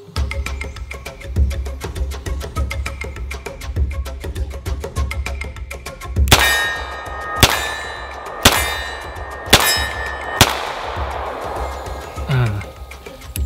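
A stainless Inox Beretta 92FS pistol fires at a steel target downrange, each of four or five loud sharp shots followed by a ringing metallic clang, spaced about a second apart after quieter preceding clicks and handling.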